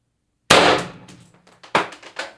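A single sharp, loud air rifle shot fires an 8 g pellet, the crack ringing off into a short decay, followed by a couple of smaller metallic clicks and knocks nearby.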